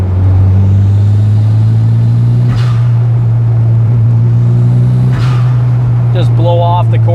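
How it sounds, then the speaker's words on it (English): A Corvette rumbles past with a loud, steady engine drone under a constant low road hum, swelling briefly twice as it goes by; a short voice-like burst comes near the end. "the Corvette that just drove by"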